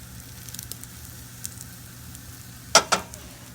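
Food fries in a hot pan with a low steady sizzle, light crackles, and two sharp louder pops or clanks near the end.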